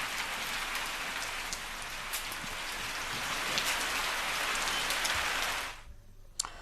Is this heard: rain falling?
yes